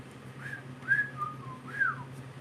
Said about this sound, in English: I'm just not whistling right